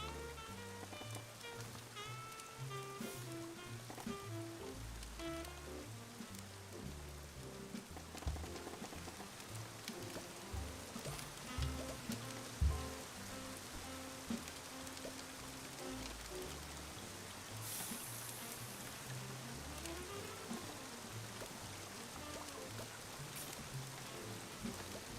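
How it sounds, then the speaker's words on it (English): Soft, steady rain ambience in a cozy Coffee Talk setting: a continuous hiss of falling rain and drops, fairly quiet, under gentle melodic music throughout. "I feel like the rain and the fireplace sounds are pretty nice."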